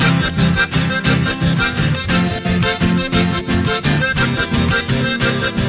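A band plays chamamé live at Club El Inca in Solano, Buenos Aires, a loud, dense ensemble with a steady, bouncing rhythm that runs throughout with no pauses or speech.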